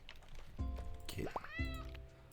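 A cat meows in the farming game Roots of Pacha, with two or three short, fairly faint meows spaced about a second apart.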